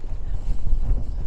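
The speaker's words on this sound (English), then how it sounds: "It's blowing a hoolie up here." Strong wind on an open moor buffets the microphone, a loud, low rumbling roar that gusts and swells without a break, close and harsh, with no talking.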